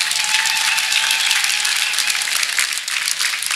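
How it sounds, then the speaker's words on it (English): A church congregation claps loudly and continuously, a bright, dense rattle of hands close up, with a faint sustained tone running underneath. "can you make the clapping more wonderful?"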